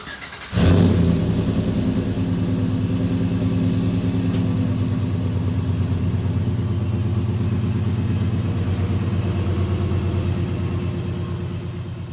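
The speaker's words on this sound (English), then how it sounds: "And Daniel did do a few pulls in the truck, first time driving this truck." A big supercharged Chevrolet Silverado pickup engine fires up suddenly and roars loudly under acceleration, holding a strong, sustained growl for several seconds before easing slightly at the end.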